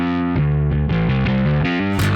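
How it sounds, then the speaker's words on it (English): A custom P bass guitar played with a split P pickup sound through an aggressive, distorted tone, picking out a short run of punchy notes up close with no talking. "Nice aggressive P bass."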